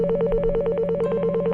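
Telephone ringing with a rapid, even warbling electronic trill, loud and close, repeating steadily with no voices.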